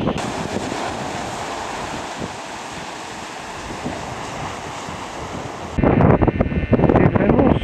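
Strong wind roars by the sea near a small village, with a steady rush of surf and waves beneath it, then bursts of harsh gusts buffeting the microphone toward the end.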